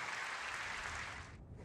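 Republicans at the State of the Union applaud in a dense, sustained burst of clapping from a large crowd, heard alone and fading slightly near the end.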